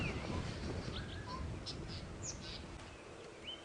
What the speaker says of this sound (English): I can hear a weaver making a noise.